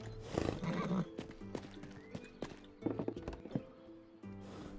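Horses in a video game horse race whinny and neigh several times over quick clip-clopping hooves, the calls loud and near, coming in bursts separated by short pauses.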